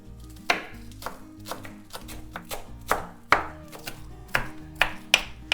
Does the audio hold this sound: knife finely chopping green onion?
yes